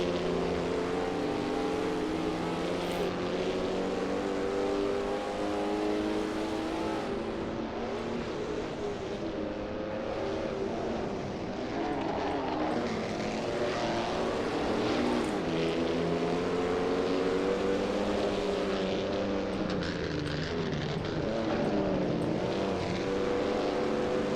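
A race car engine in Assetto Corsa, during an online race at the 1939 Eläintarhanajot circuit in Finland, drones steadily at high revs throughout, loud and continuous with slight rises and dips in pitch.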